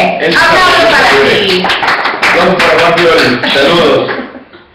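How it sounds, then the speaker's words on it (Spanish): Applause and cheering from a crowd at a Lucha Libre AAA wrestling event, loud and sustained for several seconds over a voice, then tapering off at the end. "¡Aplausos para ti!"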